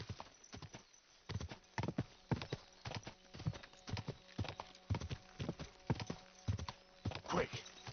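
Horse hooves clip-clop in a steady, repeated rhythm on a hard surface in the medieval game Kingdom Come Deliverance 2, moderately close, with a brief whinny near the end.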